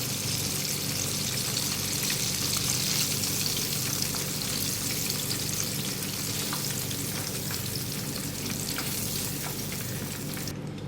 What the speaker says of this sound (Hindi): इसी तरह मैं सारी फिश फ्राई कर लूँगी और निकाल लूँगी।